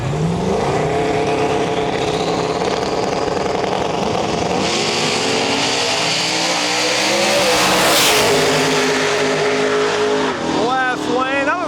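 A new Edge Mustang drag racing car roars loudly at a drag strip, the engine note sweeping up through its gears. Crowd and track noise fill the background, and an announcer talks over it.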